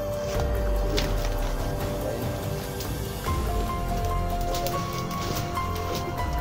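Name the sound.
rain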